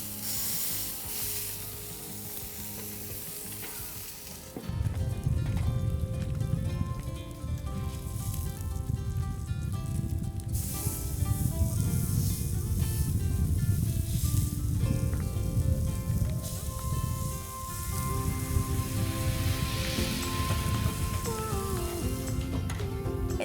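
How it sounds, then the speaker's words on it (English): Rack of lamb searing in a hot pan, a steady loud sizzle that runs continuously through the clip after a quieter opening, with no talk over it. "you hear that sizzle? And you'll want to sear them for about 2 minutes aside."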